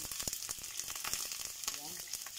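Potatoes fry in a pan on a home stove, a steady broadband sizzle with scattered clicks and scrapes, close up, with a brief voice murmuring faintly beneath.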